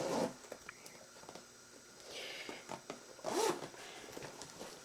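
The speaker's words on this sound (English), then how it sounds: "And then a zipper on the back." A zipper on a bag is pulled in several quick, close zips, with small rustles and handling sounds between strokes, fairly faint overall.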